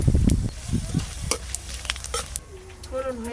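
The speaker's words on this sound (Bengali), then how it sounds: "ফোড়নে দেব দুটো শুকনো লঙ্কা আর একটু পাঁচ ফোড়ন" Two dry red chillies and a pinch of panch phoron crackling in hot mustard oil, with sharp spattering bursts at first that fade into a lighter sizzle. Someone talks nearby.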